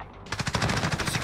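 Rapid automatic gunfire from a Call of Duty match, a tight burst of about a dozen shots after a brief quiet start, loud and close with no talk over it.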